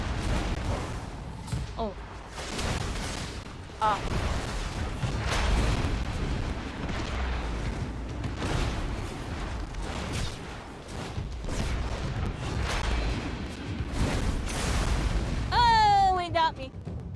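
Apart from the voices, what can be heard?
bomb explosions in the video game Spellbreak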